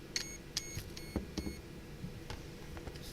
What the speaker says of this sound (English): Once you hear the beeping,